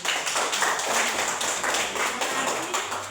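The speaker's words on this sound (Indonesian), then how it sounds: "Oke, tepuk tangan dulu." A school class claps their hands together in a lively, close, fairly loud burst of rhythmic clapping lasting a few seconds, with a faint voice underneath.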